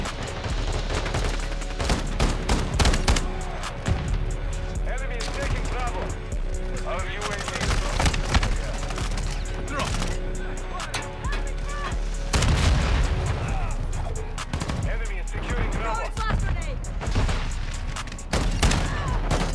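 Explosions and gunfire from the video game Call of Duty: Modern Warfare II, with dense, loud bursts of shots and booms running continuously through the clip while players talk over the action.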